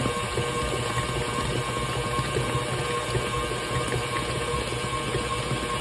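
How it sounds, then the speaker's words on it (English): A frosting mixer runs steadily while water streams into the thick base, a constant close-up churning, whirring wash with no talk. "start streaming water again."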